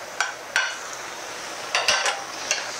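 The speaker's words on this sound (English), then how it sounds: "all we want to do is mix the kale thoroughly into the dish" Kale being stirred into a dish in an oil-free wok, with a handful of sharp scraping clanks from the utensil against the metal, spaced irregularly over a soft background hiss.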